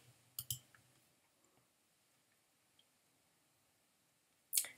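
Mouse clicks on a button in WordPress: a quick double click near the start and another sharp click at the end, close and quiet in a hushed room.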